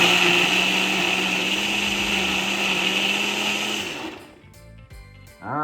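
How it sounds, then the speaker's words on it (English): A Ninja blender pulverizing dragon fruit, a loud, steady motor whir for about four seconds that winds down and stops, followed by a few quiet clicks and knocks. "we will chop up and pulverize the dragon fruit. I'll probably use my"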